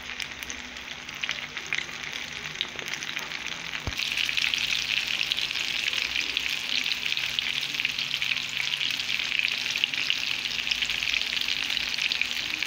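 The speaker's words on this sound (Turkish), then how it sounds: "tavada kızartmaya başladık" Red zucchini fritters (mücver) frying in a pan, a steady crackling sizzle that jumps louder after a brief clunk and then continues evenly, close and alone.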